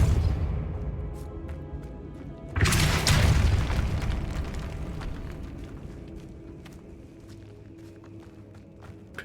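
A Depulso spell being cast in the video game Hogwarts Legacy bursts out as a sudden loud boom that decays slowly into a rumbling tail over a low ambient bed.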